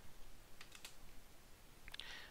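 Typing on a computer keyboard in a Linux terminal on Ubuntu: a few faint, scattered key clicks spread through a quiet room, distant and soft, with no voice.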